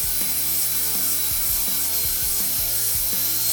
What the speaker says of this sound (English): I used a more aggressive nylon brush on the drill and it worked great